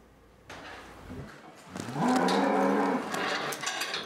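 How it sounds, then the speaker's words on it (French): Vosgienne cows low in a barn, one long deep moo swelling near and loud over a brief earlier call and the shuffling noise of the shed, no talk. "Ce sont les chouchoutes de Yannick, les vaches vosgiennes"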